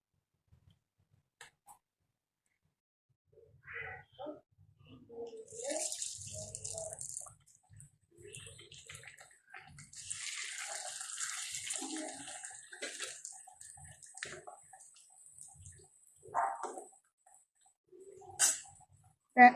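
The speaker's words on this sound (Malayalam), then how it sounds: "ഇനി അത് ഓരോന്നും ചൂടായ എണ്ണയിലിട്ട് പൊരിച്ചെടുക്കാം." Pieces of pathiri dough, a Kerala fried snack, drop into hot oil to fry. Soft hissing bursts of sizzle rise and fade intermittently against near silence, swelling as more pieces go in.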